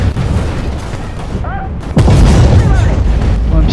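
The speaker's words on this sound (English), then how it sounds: "Now I'm being shot from the right." Heavy gunfire in a shooter video game, with loud booming bursts and a dense barrage of shots, swelling sharply about halfway through while a voice talks over the din.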